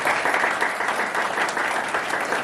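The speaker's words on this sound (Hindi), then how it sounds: "जरा जोरदार तालियों से उसके लिए नमन करता हूं।" Audience applause at an all-India poetry gathering for disabled poets in Haridwar, a steady, dense wash of clapping from many hands filling the room without a break, close and fairly loud, with no talk over it.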